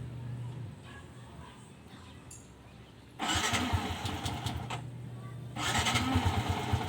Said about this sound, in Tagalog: kada i-start mo siya laging low RPM may problema